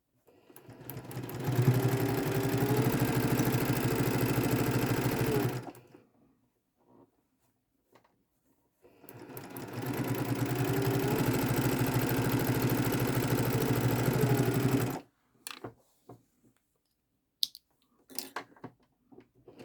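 A sewing machine stitches quilt fabric in two long, steady whirring runs of about five seconds each, separated by a pause, followed by scattered small clicks and handling noises.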